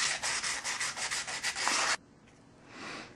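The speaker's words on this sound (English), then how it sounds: "you go back through and sand on the inside" An aluminum bottle piece for an alcohol stove is sanded by hand, about two seconds of rapid rhythmic rubbing strokes up close, followed by a quieter pause and a faint final scrape.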